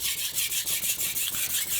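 A chipped knife blade rasps back and forth against a King waterstone under heavy pressure, giving a loud, close, rhythmic grinding with regular strokes about every quarter second.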